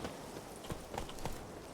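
Roach, the horse in The Witcher 3, trots up with a few faint, spaced hoof clops over a quiet in-game background.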